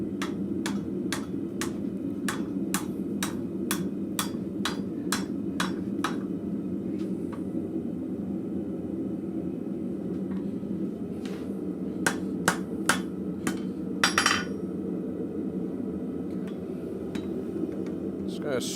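A blacksmith hammers a curve into hot metal at a holdfast forge, with a steady run of evenly spaced, ringing blows, a pause, then another quick burst, over a constant low roar of the forge.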